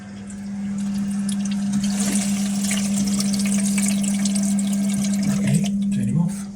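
Toilet cistern filling through a Flomasta dual flush fill valve, a steady hum of rushing water running continuously and fairly close, with a voice speaking near the end.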